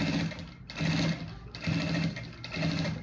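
A sewing machine stitches a fabric lining to the front panel of a bag in three steady bursts, its rapid mechanical whirr pausing briefly between runs, close and clear with no talking.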